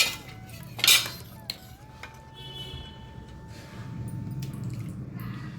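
Utensil scraping and clinking against a pot while thick mashed yam is stirred, with soft squishy mixing sounds and a faint background hum.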